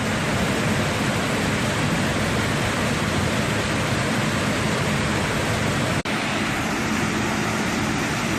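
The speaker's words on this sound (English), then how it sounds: "this is the waterfall system that's feeding the river" Flood-swollen waterfall feeding a river, a dense, steady roar of rushing water that stays loud and unbroken throughout.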